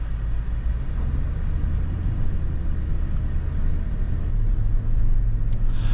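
2018 Toyota Land Cruiser 5.7 liter V8 gives a deep, steady low rumble from inside the cabin, continuous and fairly loud with no talking.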